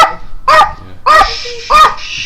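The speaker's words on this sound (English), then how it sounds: "get to listen to a bunch of dog barking today" A dog barks three times in sharp, loud bursts close by, with short yips and whines between them and a steady high tone lingering in the background.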